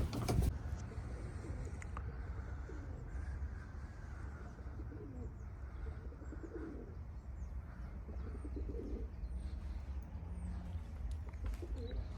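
A Gök Ayna Kuyruk pigeon coos softly and repeatedly at a middle distance, set against steady outdoor background noise, with no one talking.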